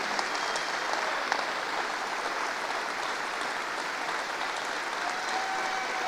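A church congregation claps steadily together, a dense, even round of applause that holds at the same level throughout with no voices standing out.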